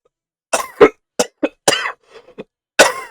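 Several harsh, hacking coughs in quick bursts from one person close to the microphone, with short pauses between, then a final loud cough.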